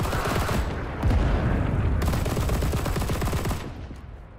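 Lahti-Saloranta M/26 light machine gun in a Winter War mod video game firing in sustained rapid bursts, loud and close, with dense rattling shots running almost continuously before tapering off.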